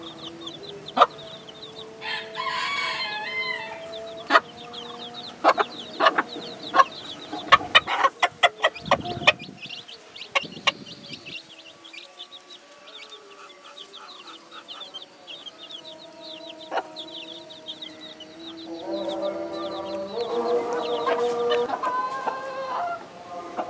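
Young chickens clucking and peeping inside a cage, with scattered chirps, short bursts of fluttering and sharp knocks and clatters in between, somewhat busier toward the end.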